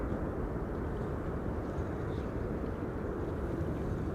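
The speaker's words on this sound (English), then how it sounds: "Time for KLM flight 1932 to arrive from Geneva next, 737-900." A KLM Boeing 737-900 arriving at Amsterdam Schiphol produces a continuous, fairly loud jet rumble with a broad wash of noise that stays level throughout.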